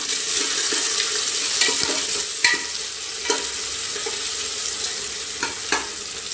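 A spoon stirs coarsely crushed green chili paste into masala frying in a pan, giving a steady soft sizzle broken by several distinct scraping strokes, close and moderately quiet.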